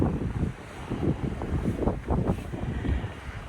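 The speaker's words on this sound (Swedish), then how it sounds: "Och här nere det stormiga havet" Sea waves roll and surge below a house on the volcanic island of Stromboli, gusting wind buffeting the microphone in uneven pulses, with no voices.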